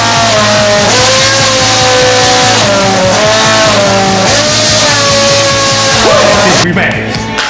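A Perkins engine under restoration runs loudly and close by, its steady rhythmic pulse throbbing beneath a melodic, tune-like tone that rises and falls across the run.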